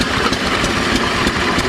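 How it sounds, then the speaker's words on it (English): An antique gasoline engine idles at an outdoor tractor show, giving a steady, continuous mechanical chug with faint periodic knocks, close and fairly loud with no talk over it. "all these machines are being operated with these gasoline engines today here"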